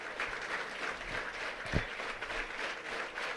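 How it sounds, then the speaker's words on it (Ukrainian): Spectators in the stadium stands at a Ukrainian Cup football match clap steadily, a faint, distant, continuous patter of applause. "під акомпанемент е, оплесків трибун дитина воїна"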